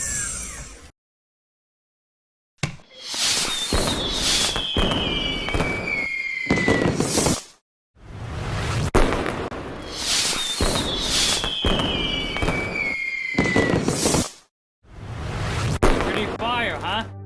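Animated fireworks pop, crackle and whistle in repeated loud bursts separated by brief silences, with rising whistles and sparkling crackles filling each volley.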